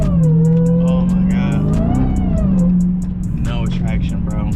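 Dodge Hellcat widebody on stock Pirelli tires spinning its wheels, a loud steady supercharged engine roar with rising pitch under excited talk.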